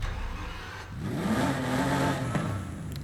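A stock-engined 1970 Porsche 914/6 revs up from idle, its engine note climbing and holding at a loud, steady, close-up pitch before easing off slightly near the end.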